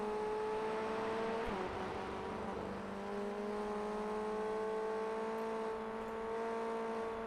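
A Formula 1600 race car at Magny-Cours held high in 4th gear down the back straight, its engine a steady loud whine with a slight pitch dip early on, then a sustained near-constant drone.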